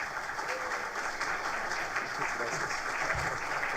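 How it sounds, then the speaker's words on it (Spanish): Audience applause welcoming a speaker at an international road safety seminar, continuous fairly soft clapping from a seated crowd, with some voices mixed in. "Recibámoslo, por favor, con un fuerte aplauso"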